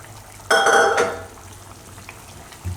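A spoon scraping and stirring thick tomato and drumstick curry in a metal pot, one short burst of clattering mixing, then near quiet.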